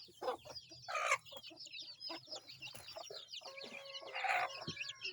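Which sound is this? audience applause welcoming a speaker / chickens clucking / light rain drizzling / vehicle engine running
chickens clucking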